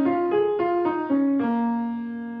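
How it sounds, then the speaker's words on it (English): A short, simpler blues scale on trumpet: five or six clean notes stepping upward and back, ending on a long held tone, solo and close. "Or it can be an even simpler scale."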